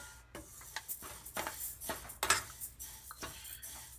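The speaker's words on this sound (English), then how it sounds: "Continuously stir the moong dal." A spoon or spatula scraping and clinking in a heavy-bottomed frying pan or kadai as moong dal is stirred while it roasts over medium-low heat, giving quiet, irregular metallic scrapes with no talk.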